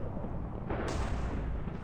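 A sorcery attack explodes in the Minecraft Naruto mod ShinobiCraft. Dense, loud rumbling noise swells and brightens partway through, then holds as a sustained, roaring blast with no voices.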